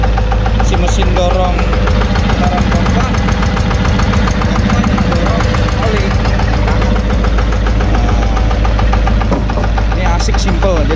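Yanmar diesel engine, the kind used on a rice mill, running steadily close up, with a loud continuous mechanical chug and knock throughout and no pauses.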